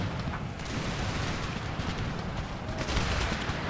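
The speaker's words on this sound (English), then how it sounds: "Get that canister fire open." Dense, continuous barrage of artillery canister fire from the Empire Total War Empire 2 mod, a thick rumbling wash of overlapping blasts with no clear gaps, loud and sustained throughout.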